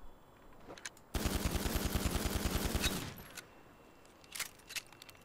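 Rapid automatic Glock 18 fire from a modded GTA 5 game, a loud continuous burst of evenly spaced shots lasting about two seconds, followed by a few scattered fainter sounds.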